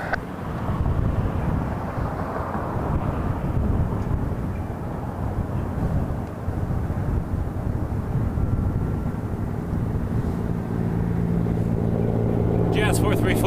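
Airplane rolling on a runway at Toronto airport in freezing weather, a steady broad engine rumble heard from a distance, with a faint higher whine rising near the end.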